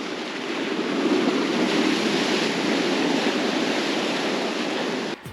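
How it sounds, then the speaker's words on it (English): Ocean surf breaking on a beach on Eleuthera Island in the Bahamas makes a continuous, loud, hissing roar that holds steady throughout with no voices, then drops away sharply at the very end. "you can hear the waves crashing all night long."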